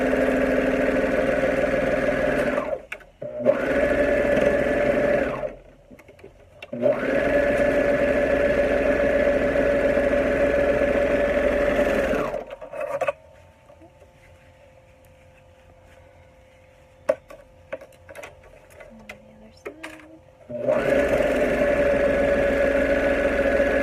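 A serger sewing machine runs in long steady bursts with a humming, whirring drone, stopping briefly between runs and leaving a quieter stretch with faint handling sounds before starting again, close by.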